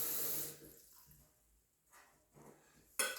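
Fresh spring water splashes into a jar of green lentils, a brief close pour at the start, then faint trickles and a couple of small splashes with a sharp clink at the end.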